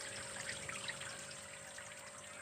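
Water trickling and pouring steadily into a small silkworm (tubifex) pond, a continuous close splashing flow with no talk.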